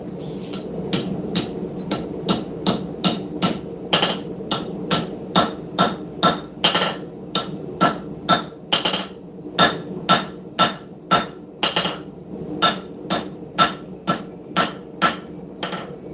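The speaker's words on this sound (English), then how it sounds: "Like I said, we're just going to hammer on that spine or on the cutting edge." A camp knife blade is hammered on an anvil at a forge, with a long run of sharp metallic strikes in a steady rhythm and a few brief pauses, loud and close, with no talking.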